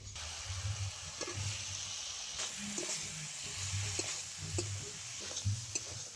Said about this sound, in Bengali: এবার আমি ভেজে রাখা আলুটা দিয়ে আরো কিছুক্ষণ কষিয়ে নেব